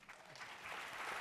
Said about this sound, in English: One more round of applause for Laura Polin.